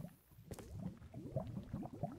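Water flows and gurgles in a cave in Minecraft, a quick bubbling stream, fairly faint and steady, with a brief sharp click near the start.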